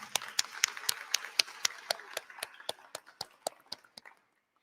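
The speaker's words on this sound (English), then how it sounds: "So let's give them a round of applause." A handful of people clap at a high school graduation ceremony, sharp individual hand claps in a fairly steady rhythm, close and distinct, slowing and stopping after about four seconds.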